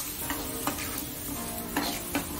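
Ginger garlic paste stirred and roasted in a pan for butter chicken, giving a steady sizzle with periodic soft scrapes of the spoon, close and moderately loud, no talking.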